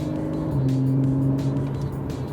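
Porsche car driving along a country road in the German countryside, its steady engine drone holding a constant pitch throughout with no talk over it.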